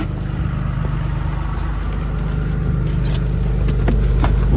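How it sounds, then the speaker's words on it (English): A truck engine runs steadily after a jump start on a cold night, a low continuous rumble close by with light metallic jingling on top, no talking. "The truck's running. It's warming up right now."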